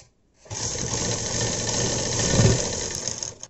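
A sewing machine stitches a sleeve, running in one steady continuous buzz from just after the start until near the end, close and alone.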